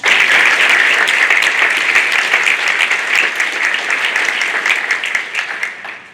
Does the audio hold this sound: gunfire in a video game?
no